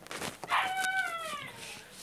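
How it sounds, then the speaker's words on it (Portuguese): A dog howls nearby, a rising, wavering cry that slides down in pitch, preceded by a few short whimpering yelps. "meu cachorro berrando"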